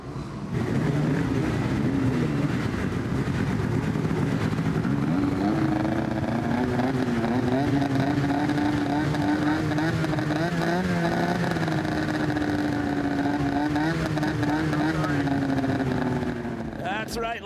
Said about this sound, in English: are you ready again for Snowmobile Freestyle? Gentlemen, start your engines.